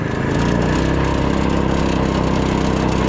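A 6.6 hp 224cc engine swapped into a mini quad runs steadily at half throttle, a loud, close, continuous motor drone with no talk over it.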